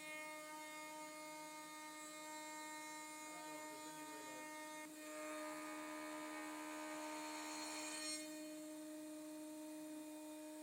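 A steady high-pitched CNC machine whine with a routing, grinding tone that swells midway as the spindle drills and cuts wood for a blanket chest, continuous and fairly distant.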